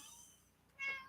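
A pet cat named Kitty lets out one short, soft meow close by near the end, after a quiet pause.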